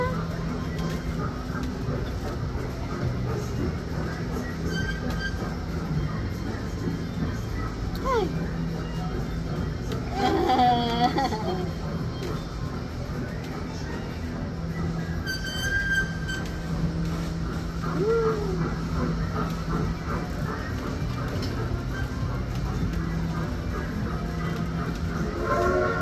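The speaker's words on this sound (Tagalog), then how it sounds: "brother Michael, riding a train" A small ride-on train rolls along its rails at a mall gala day event, giving a steady rumble and clatter throughout, with people talking and calling out over it and a brief whistle-like tone partway through.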